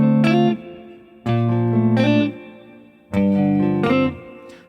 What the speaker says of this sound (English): The first one is just a simple hammer-on.